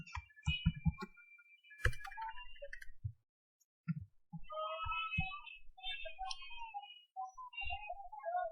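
Someone types C++ code on a computer keyboard, with crisp, close key clicks in irregular bursts, a brief silent pause partway through, then lighter continued tapping.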